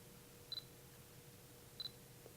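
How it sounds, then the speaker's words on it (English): Shutter button on a Fujifilm X20 camera pressed twice, each giving a tiny, crisp double click close up over steady faint room hiss. "if I push the shutter button,"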